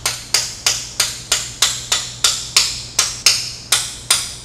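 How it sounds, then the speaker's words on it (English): A brass hammer strikes a crankshaft part in a steady series of about thirteen sharp metallic taps, evenly spaced and close, each hit ringing briefly before the next, with no talking. "Needs a little persuasion, so I'll just offer up persuasion in the form of a hammer."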